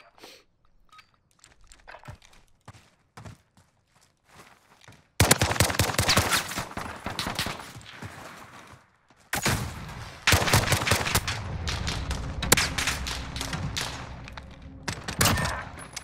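Desert Eagle pistol shots crack out in a video game one-on-one match, sparse single reports at first and then dense bursts of loud rapid gunfire with crunchy impacts, no talking.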